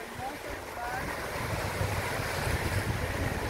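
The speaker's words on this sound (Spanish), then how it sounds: "Lindo, fresquito acá, lindo viento." Steady wind gusting outdoors by the Paraná River at Carmen del Paraná, a continuous broad rushing roar buffeting the microphone, with faint lapping water beneath and no talk.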